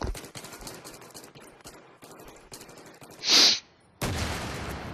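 Rapid automatic gunfire from a gun in Battlefield 3, quick rattling bursts repeating steadily at moderate loudness, broken by a short harsh hiss, then a louder, denser stretch of firing at the end.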